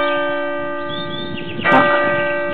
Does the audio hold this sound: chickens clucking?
no